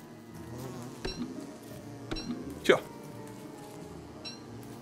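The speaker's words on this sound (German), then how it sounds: "Tut mir leid, Bienen, es hat sich ausgeblumt." Bees buzz in the game Don't Starve Together, a faint steady drone with a few sharp clicks, all under someone talking.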